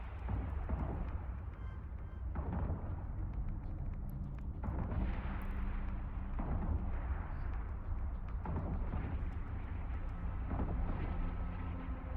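Ship weapons fire in the space game Eve Online, a series of heavy booming blasts repeating every couple of seconds over a continuous low rumble, loud and close.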